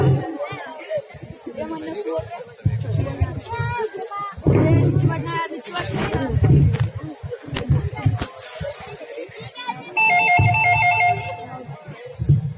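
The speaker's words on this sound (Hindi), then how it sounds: "जरा फोन तो उठाना।" A telephone rings with repeated electronic trills while several people talk and chatter nearby.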